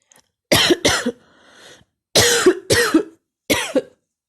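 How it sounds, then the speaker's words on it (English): A series of sharp, loud coughs in two pairs and a single, separated by short pauses and a faint breathy sound, with no talking. "You've got a cough, which means the loud noise"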